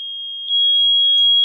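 A steady, pure 3200 Hz electronic buzzer tone holds for over a second, growing slightly louder partway through.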